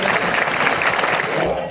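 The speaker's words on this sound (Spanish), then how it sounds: "si ustedes consideran que se llevan el aplauso" Rodeo crowd at Rancho El Bermejal in San Miguel claps steadily and fairly loudly, a dense continuous patter filling the whole stretch with no break.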